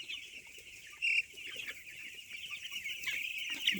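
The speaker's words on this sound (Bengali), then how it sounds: "মুরগি সব আর কি আমার দিকে ছুটে আসতেছে" Broiler chickens on a farm at night cluck and chatter steadily over a constant hum, with a brief louder burst early on; no one speaks.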